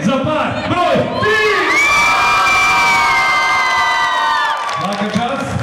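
A school-hall audience cheers loudly for pair number 3 at an inter-school event, sustained crowd shouting and whooping with children's voices rising together, then fading back toward scattered voices.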